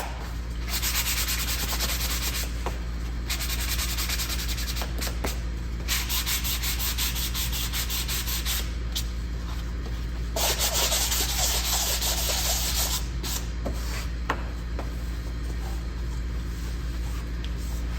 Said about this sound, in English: I'm gonna sand one side of that. Why not? I'll sand all the sides.